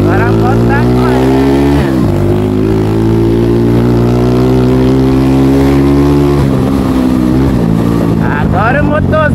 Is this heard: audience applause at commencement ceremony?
no